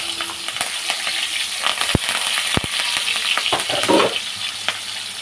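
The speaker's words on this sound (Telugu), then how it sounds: "ఇప్పుడు మనం దీంట్లోకి టమాటో వేసుకుందాం. అలానే కరివేపాకు కూడా వేసుకుందాం." Tomato and curry leaves fry in a pan with loud, crackling sizzle and spattering pops, joined by occasional stirring scrapes and a couple of sharp metallic taps, continuous and close throughout.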